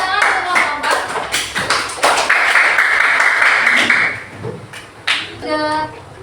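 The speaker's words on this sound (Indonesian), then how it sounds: "Beri tepuk tangan untuk kelompok" A classroom audience applauds a student group after its presentation, with scattered close claps and taps that build into a brief burst and then fade, mixed with overlapping chatter and voices.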